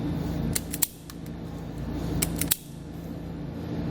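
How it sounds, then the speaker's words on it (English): Cutters snipping through trailer wiring wire, two sharp crisp clicks of the blades closing a couple of seconds apart, close and clear over a faint steady hum, with no talk. "Cut the wire in half."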